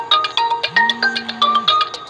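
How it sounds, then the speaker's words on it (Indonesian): Loud electronic phone ringtone chirping in a rapid repeating melodic pattern, close by and alone, during a session on oyster mushroom growing bags. "Ya, itu ada telepon,"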